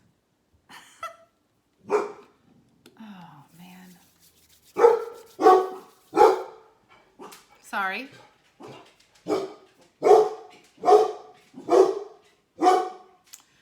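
A dog barks repeatedly nearby, loud sharp woofs in an irregular run that grows more regular, with a few whines between and a person speaking briefly.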